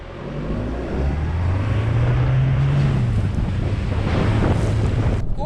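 A pickup truck at full throttle wading through deep water around 700mm, a loud continuous roar of engine and rushing, churning water close to the microphone, with heavy wind buffeting and no talk.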